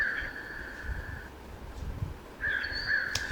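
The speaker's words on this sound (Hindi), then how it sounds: "या फिर कोयल की नहीं तो कौवे की आवाज़।" A crow caws in two drawn-out harsh calls separated by a short pause, clear and fairly close, with only faint background noise.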